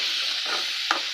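Onions and tomatoes sautéing in a pan, a soft continuous sizzle with a single sharp stir or utensil knock near the end.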